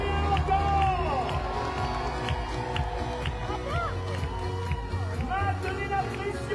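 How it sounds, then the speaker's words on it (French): Crowd awaiting the Olympic flame relay arrival in Reims, a dense roar of cheering and babble with a loud voice over it, continuous and fairly close throughout. "Maintenez la pression. Applaudissez, encouragez. Elle arrive."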